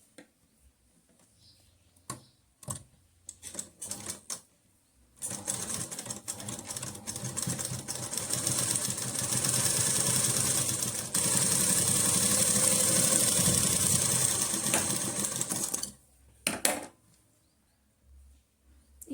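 A sewing machine stitches the collar neck of a kurti in a steady whirring run of about ten seconds, preceded and followed by short bursts of stitching and handling noises, close and alone without talk.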